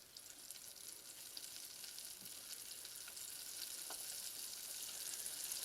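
Razor clam strips deep frying in hot oil give a steady, close hiss and crackle with faint pops throughout, no voices.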